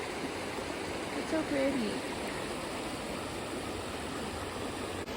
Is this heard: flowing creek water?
yes